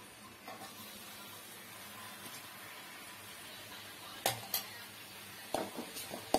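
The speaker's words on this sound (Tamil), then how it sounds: "சப்பாத்தி நல்லா பெருட்டி எடுத்த பிறகு கொஞ்சம் குருமாவை ஊற்றி கலக்கவும்." Shredded chapati being mixed with kurma in a pan for kothu chapati, with a soft background sizzle and a few sharp metallic clinks and scrapes of a utensil against the pan toward the end.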